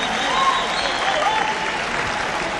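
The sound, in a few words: audience applause after opening dance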